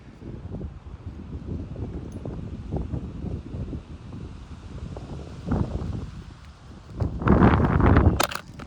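Gusty wind blows outdoors, buffeting the microphone with rumbling rushes that swell into a stronger gust near the end, close and loud, with a sharp knock or two at the very finish and no talking.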